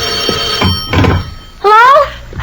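A telephone bell rings in an old radio drama, with a couple of low thuds before it and a short bright ring near the end, heard amid the room sound of the scene.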